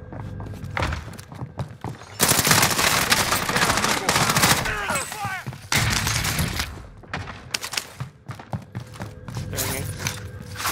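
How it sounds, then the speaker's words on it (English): Gunfire in the Call of Duty: Modern Warfare video game: dense bursts of automatic and single shots, rapid and loud, with thuds and footsteps, and players talking over the action. "We're taking fire."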